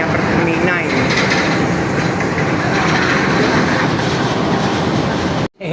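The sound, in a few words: Pertamina fuel tanker train passing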